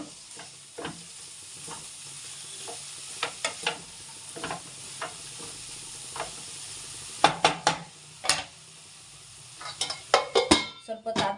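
Egg with dill leaves fries in a pan with a soft, continuous sizzle, broken by sharper scrapes and clinks of a utensil against the pan that grow busier toward the end.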